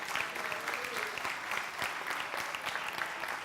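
Church congregation applauding after a baptism service, steady broadband clapping from many hands filling the room, continuous and fairly loud with no break.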